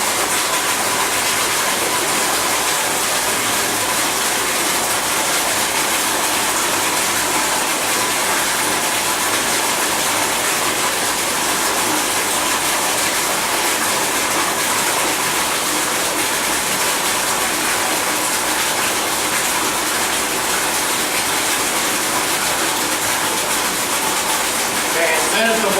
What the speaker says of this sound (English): It's filling for the next bath, so it's always that one step ahead of you.